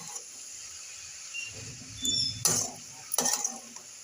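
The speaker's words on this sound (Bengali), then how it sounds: "এবার আমি নেড়ে দেবো।" Red amaranth greens, just salted, are stirred in a pan, with a few sharp metallic clinks and scrapes from the utensil against the pan over a quiet background.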